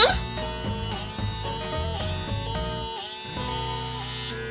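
A PMD Kiss lip plumping device runs its suction motor at low speed, a loud close buzzing hum whose pitch steps and wavers in pulses throughout.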